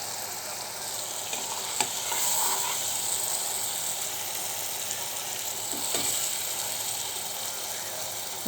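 Spice paste frying in a pan, a continuous close hiss and sizzle with occasional stirring scrapes and small clicks, no one speaking.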